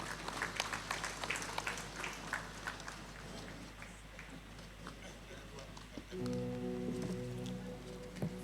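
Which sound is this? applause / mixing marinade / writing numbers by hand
applause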